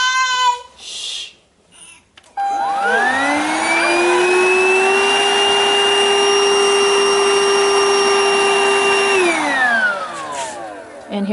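A Hoover BH52210PC Cruise cordless stick vacuum whirs up to a high steady whine, runs loud and even for several seconds, then winds down as it switches off.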